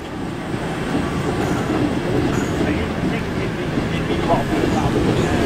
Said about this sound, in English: It's next to the main railway line.